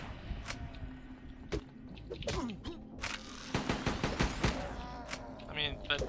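Ranged-weapon gunfire in the Subterrain video game: a string of sharp, separate shots, some rapid, sounding over a steady low hum of game ambience, with wet squishing effects in between.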